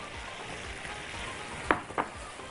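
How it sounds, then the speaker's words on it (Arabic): Chopped onions sautéing in a pan for beef shawarma, a steady soft sizzle running throughout, broken by two brief sharper clatters near the end, likely stirring against the pan. "البصل بس هو اللي هديله تشويحة بسيطة علشان اضيع بس الطعم الني بتاعه"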